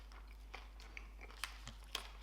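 Someone chews a crunchy snack containing hard little bits of honey, quiet close-up crunches and bites landing irregularly over a low steady hum, with no talking.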